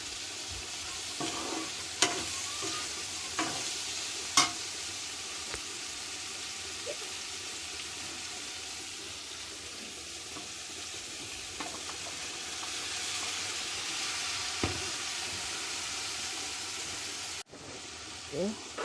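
Coriander and spices fry in oil in a home kitchen pan, a steady bright sizzle with occasional stirring scrapes and clinks, continuing close and even before a brief pause near the end.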